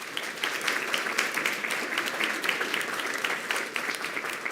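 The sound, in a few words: applause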